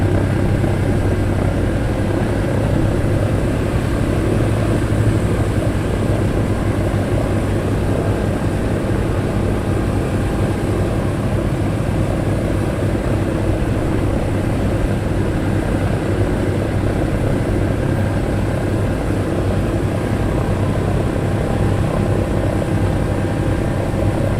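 A Britten-Norman Trislander aircraft idles on the ground with two of its three propeller engines running at an open day, a loud, steady, unbroken droning roar with constant pitch and no voices.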